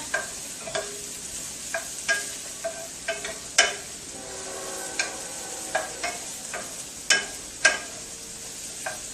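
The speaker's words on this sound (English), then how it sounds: "let these mushrooms and stuff cook through" Mushrooms frying over lowered heat in a pan, a soft steady sizzle broken by repeated clinks and scrapes of a utensil stirring, close and clear with no voices.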